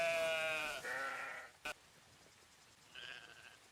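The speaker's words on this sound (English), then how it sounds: "A flock of curious and very sociable" Sheep in the fantasy game Book of Travels bleat in a close, clear wavering call, followed by a brief click and then a shorter, fainter second bleat against a quiet background.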